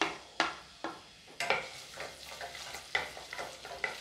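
Finely chopped garlic frying in ghee for a chana dal curry: a steady, close sizzle broken by several sharp stirring scrapes and clatters, with no talking.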